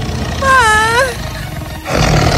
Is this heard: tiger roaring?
yes